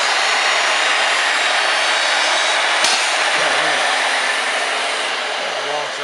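A router running on a Maka STV mortiser, a loud steady high-pitched whine and rush that continues throughout, close by, with a brief click partway through and a voice heard faintly underneath.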